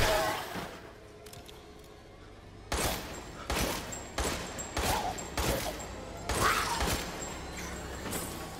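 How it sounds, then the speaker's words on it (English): A rocket pistol fires in Resident Evil Village, a run of about six sharp, heavy blasts roughly half a second apart, each trailed by mechanical clatter, following a quieter stretch of game ambience. "Let me use the rocket pistol."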